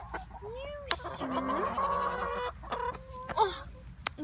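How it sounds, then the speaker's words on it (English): Chickens on a farm cluck and squawk close by in several short, uneven calls, with a faint voice and rustling underneath. "I'm gonna catch a chicken"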